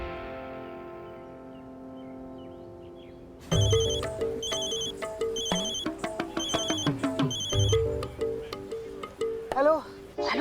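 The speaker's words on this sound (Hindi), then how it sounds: "फोन करती हूँ" A phone ringtone plays with a steady melodic pattern, first soft and tonal, then louder repeating rings joined by voices and rustling.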